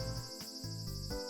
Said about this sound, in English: That's the sound of cicadas.